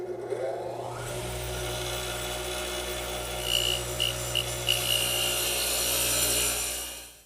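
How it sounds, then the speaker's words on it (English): A radial arm saw fitted with a dado head cutter spins up and grinds steadily through wood to form tenons, a loud continuous whine with brief pulsing bites before winding down. "to cut the tenons, I'm going to use my radial arm with the dado head cutter as before."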